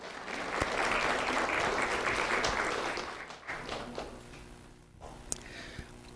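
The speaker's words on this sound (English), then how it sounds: "Round of applause for Luke Benjamin Mead." An audience at a sheriff's office award ceremony applauds a young recipient, a full, steady wash of clapping that swells for about three seconds, then thins into scattered claps.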